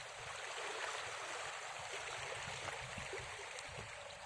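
Sea waves washing onto a beach with brownish water, heard as a steady, continuous rushing wash at moderate distance with no clear individual breaks and no talking.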